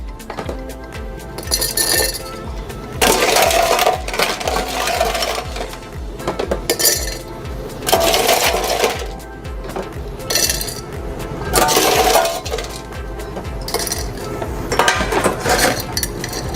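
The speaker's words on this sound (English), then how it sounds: "Then we're gonna add some ice on our mixing glass." Ice cubes clink and rattle into a glass mixing glass while a Negroni is made, arriving in several loud bursts a few seconds apart.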